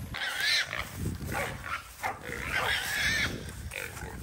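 Wild pig caught by a dog after a mob of pigs crossed the road, squealing and grunting in loud, ragged bursts close by, with rustling scuffle noise throughout.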